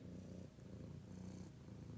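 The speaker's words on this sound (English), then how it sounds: "Cleo, you're purring too loud." A cat purrs steadily and close, a continuous low rumbling throb with a slight breathing rhythm, heard alone and fairly quiet.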